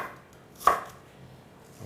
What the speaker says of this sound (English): now just cut the tips into 3 slices